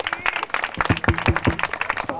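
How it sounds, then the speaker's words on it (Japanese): Crowd applause and cheering at an AJSA amateur skateboard contest at an outdoor skatepark in Nakatsugawa, Japan, with dense overlapping claps and some close, sharp individual hand claps standing out. "拍手。"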